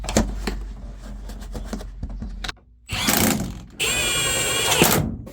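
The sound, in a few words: drilling a new hole in car floor carpet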